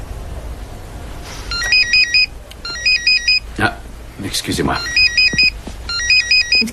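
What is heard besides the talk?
mobile phone ringtone ringing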